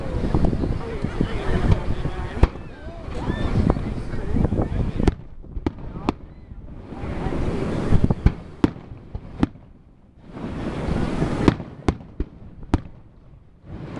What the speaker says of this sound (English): Why would they want green fireworks?